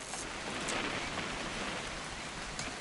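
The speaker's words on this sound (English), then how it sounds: "It's gonna rain the whole weekend," Steady rain falls throughout, a dense hiss of drops pattering on a surface, with a few slightly louder splashes and no voices.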